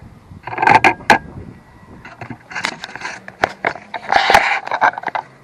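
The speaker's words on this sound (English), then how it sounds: "I just use a manual pump to create suction. So you start drawing the oil up." A manual hand pump draws oil out of a four-stroke Sea-Doo's crankcase, making close, irregular bursts of squeaky, creaking mechanical strokes separated by short pauses.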